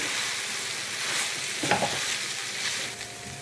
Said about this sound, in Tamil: இப்போ நல்லா மிக்ஸ் பண்ணி விட்டுக்கலாம்.